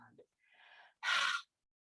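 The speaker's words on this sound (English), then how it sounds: "The breath will escape through the mouth. Strong ha kind of sound." A single forceful "ha" exhale through the mouth during a yoga class, a short loud breathy burst after softer breathing sounds.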